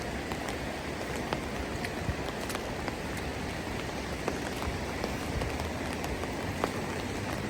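Rain pattering on surfaces during a January walk at Esto-Sadok and Rosa Khutor in Sochi, a dense even hiss with scattered sharper drips and taps, continuous and close without voices.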